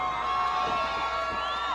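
A crowd at a women's MMA fight cheering and shouting continuously, a dense loud roar with whoops and whistles rising over it.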